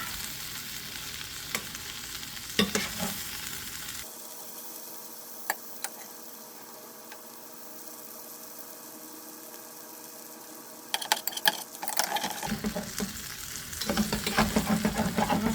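Fat melting in a pan ahead of breakfast eggs, a soft, steady sizzle that quiets for several seconds in the middle, with a few sharp clicks and clatters at the start and end.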